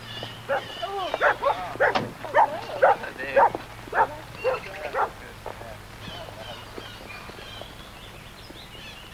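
Dogs guarding a house at the end of a narrow lane in the Cairngorms foothills bark in a quick series of sharp, fairly close barks, then fall quiet over a low steady hum.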